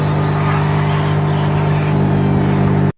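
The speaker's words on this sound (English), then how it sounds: "hear it when those two tires from the back of the car are going onto the asphalt" A car's rear tires roll onto asphalt in the Heading Out driving game, giving a loud, steady engine hum with a tonal drone and road rumble that cuts off abruptly at the end.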